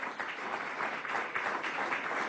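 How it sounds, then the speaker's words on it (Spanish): An audience gives warm, sustained applause welcoming flamenco dancer David Morales at an event attended by President Maduro; the clapping is a dense, even wash of hands throughout. "Los recibimos con un aplauso de cariño."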